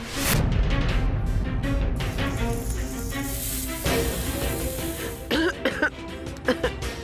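A series of coughs and throat clearing, loud and close at first, then a few shorter bursts trailing off.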